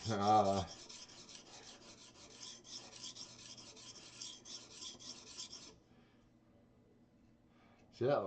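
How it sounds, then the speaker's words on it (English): A knife is sharpened on a whetstone with a steady rasping scrape for about five seconds, followed by a quiet pause; a voice speaks briefly at the start and again at the end. "I am doing a little bit of sharpening"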